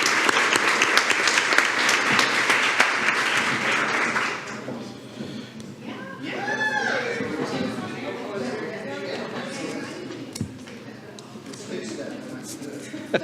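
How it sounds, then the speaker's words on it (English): Applause at a school board meeting for junior high dance programs, loud dense clapping for about four seconds, then tapering off into scattered claps as people talk and cheer softly. "great round of applause for our junior high dance programs and our Cheyennes"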